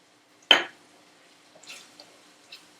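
Sloppy joe sauce mixture stirred in a pan: one sharp clank of a utensil against the pan, then a few soft, scattered scraping and squishing stirs, quiet and close.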